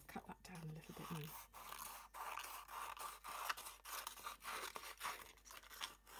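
Scissors snip through paper for an insect collage, with a quick series of close, crisp cuts repeating every half second or so, and a voice speaking at times.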